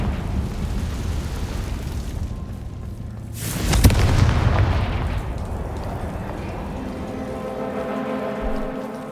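A Confringo blasting spell goes off in Hogwarts Legacy as a loud single explosive burst partway through, followed by a rumbling, crackling tail that fades over several seconds.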